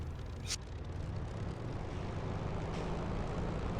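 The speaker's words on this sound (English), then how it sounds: "I'm just taxiing onto the straight before the end of the runway." Simulated aircraft taxiing onto a runway in DCS flight simulator, a steady droning engine hum holding throughout with a brief hiss of air near the start.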